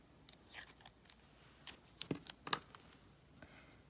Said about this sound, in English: I'm just going to add a little bit of washi tape kind of on the side just to hold my template down